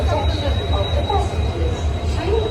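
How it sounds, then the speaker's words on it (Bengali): Coromandel Express train pulling into a station on the Kolkata to Chennai route, a steady low rumble of rolling wagons and a faint high whine throughout, with people talking in the background. "তো আমাদের ফাইনালি আমাদের ট্রেন চলে এসছে"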